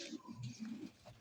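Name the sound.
pigeons cooing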